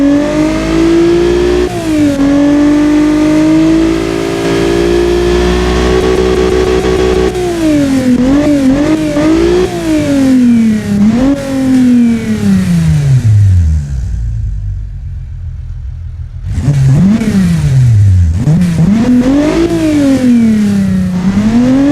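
A Honda C30A NSX V6 engine with titanium connecting rods revs in the Automation car game, loud and continuous, climbing and falling repeatedly through the rev range with a brief drop to idle and no talk.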